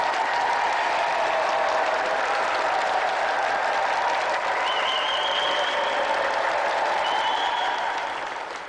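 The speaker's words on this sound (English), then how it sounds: "a round of applause for tonight's contestant, Richard Sylvester!" A studio audience at a video game show applauds a contestant with loud, dense, sustained clapping that runs the whole stretch and begins to fade at the very end.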